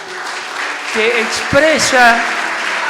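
A church congregation applauds steadily during a sermon, a broad wash of clapping that runs under a preacher speaking loudly over it.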